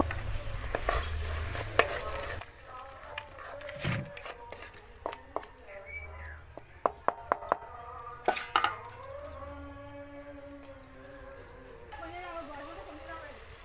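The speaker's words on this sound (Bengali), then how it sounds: "তো এখানে আমি ভেজে রাখা কাঁকড়াটা দিয়ে দিলাম, দিয়ে আরও কিছুক্ষণ ভেজে নেব।" Pre-fried Digha sundari crab sizzles in a pan with intermittent stirring and scraping clatter, while a person talks over the cooking.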